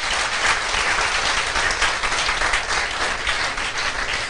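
A hall audience at a Rajyoga meditation talk breaks into dense, steady applause, many hands clapping loudly and evenly for several seconds with no pause.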